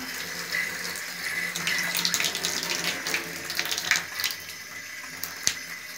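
Water running from a newly installed bathtub mixer tap, a steady hissing splash into the tub with small fluctuations and brief drips, close by and unaccompanied by talk.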